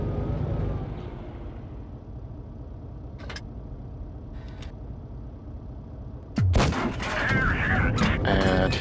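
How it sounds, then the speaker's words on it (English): A single heavy ST I tank cannon shot, fired at a KV-4 in a tank game, bursts out loud and sharp after a low engine rumble, then rings into clatter and noise; two faint earlier cracks come from further away. "Put a shot into this KV-4, finishing him off."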